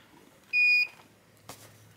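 A digital multimeter gives one clear, steady electronic beep of about a third of a second as it is powered on, followed by a short soft click, in an otherwise quiet room.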